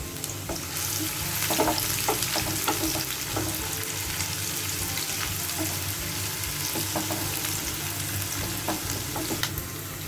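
Onions fry in hot soybean oil in a pan, giving a steady close sizzle and crackle with occasional stirring scrapes and no voices.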